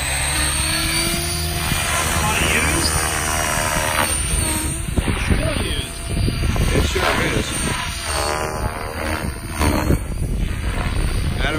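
GAUI X5 RC helicopter spooling up, a steady loud whirring rotor and motor drone with rising tonal bands, continuous throughout with voices talking over it.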